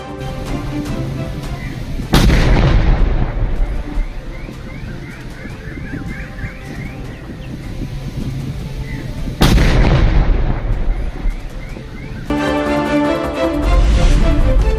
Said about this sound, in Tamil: கேளம்பாக்கம் அருகே ராக்கெட் லான்ச்சரை வெடிக்க வைத்த ராணுவத்தினர்